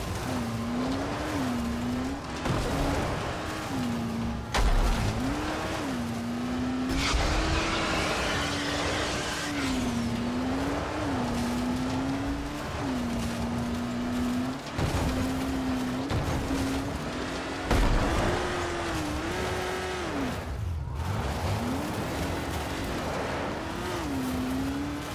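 A car driven hard in the game Dying Light The Following, its engine droning and rising and falling in pitch throughout, with repeated tire squeals and rough thumps over a long stretch.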